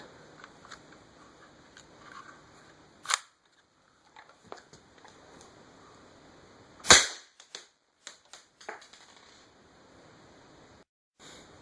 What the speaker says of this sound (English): out of the rifle, the pellet made a much bigger dent in the wood as it hit the Kevlar